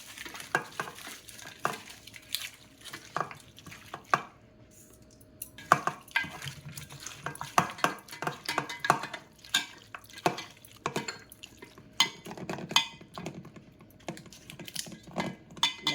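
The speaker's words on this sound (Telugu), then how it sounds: "ఇవన్నీ వేసుకొని బాగా కలుపుకోవాలి." Fried onions, chili powder and garam masala for Andhra-style dum biryani mixed together in a bowl: busy, close clicking and scraping of utensils in irregular bursts with brief pauses and no talking.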